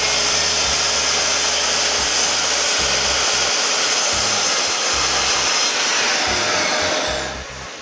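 Power saw making a straight cut through timber for a scarf joint, a steady loud whine running for several seconds with a pulsing low hum beneath, then spinning down at the end.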